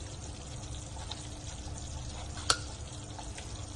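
Pakora batter spooned into hot oil over a medium-low flame gives a steady, soft frying sizzle, with one sharp clink of the spoon midway.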